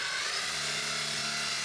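A steady mechanical whir with a low motor hum as a power drill bores a door knob hole in a door, running continuously for a couple of seconds.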